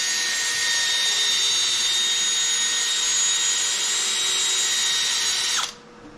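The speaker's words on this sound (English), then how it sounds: "Try to hold your drill as steady as possible so it doesn't gouge into your headlight." Cordless drill buffing a Toyota Prius headlight during restoration, a steady high-pitched whine held loud and close for about five and a half seconds, then cutting off abruptly into near silence.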